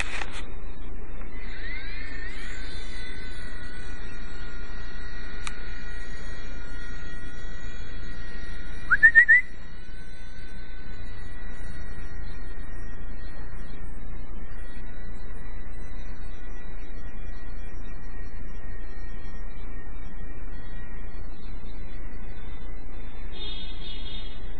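V911 RC helicopter fitted with a TREX 100 skid mod flying, a steady high-pitched motor whine with tonal harmonics that shifts slightly in pitch throughout.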